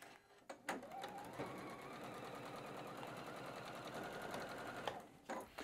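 A sewing machine stitches half-square-triangle pieces of batik quilting fabric in one continuous rapid run, close and fairly quiet, with a short start and a few clicks at either end.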